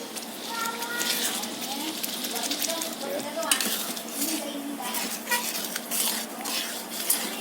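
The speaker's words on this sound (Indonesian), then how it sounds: "Setelah itu kita aduk lagi, kita ratakan dulu sampai dia agak mengental ya." Sweet and sour crab is stirred in a pan at home, with a spoon scraping and clinking against the metal over a soft sizzle while a person talks throughout.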